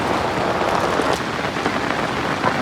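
Heavy first monsoon rain pours steadily on a riverbank where crowds gather to catch fish, a close, even wash of drops on surfaces with no voices.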